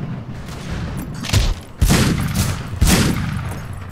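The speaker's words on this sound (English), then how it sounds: "Well, there goes my two shots." Gunfire in the Western shooter Fistful of Frags, three loud close shots spaced roughly a second apart, each a sharp crack with a booming low tail over a rumbling ambient backdrop.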